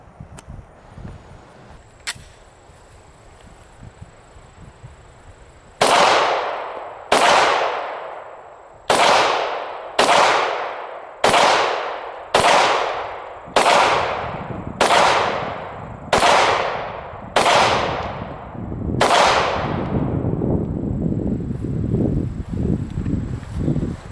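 A handgun fitted with a weapon light fires outdoors. One early crack is followed by a string of loud, sharp shots, about ten in quick, fairly even succession, each with a short decaying echo.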